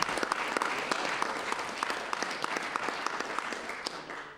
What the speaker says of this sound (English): Dr. Rippey deserves a round of applause from everyone in this House